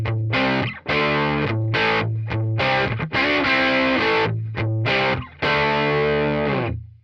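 Electric guitar through a TONEX ONE pedal, a loud, close, distorted tone with a steady run of chopped, palm-muted chords and short gaps between phrases, heard alone without talking.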